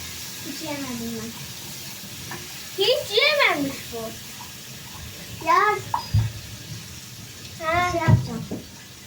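Food sizzles steadily in a pan with extra oil added, a low, continuous frying hiss running under several bursts of voices.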